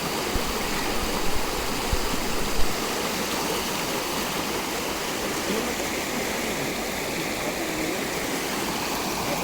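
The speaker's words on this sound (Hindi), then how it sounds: "काफ़ी तेज़ पानी में।" Fast, flooded river water rushes steadily and loudly close by, with a dense broadband roar and churning that never lets up, during monsoon fishing near Kotdwara, Uttarakhand.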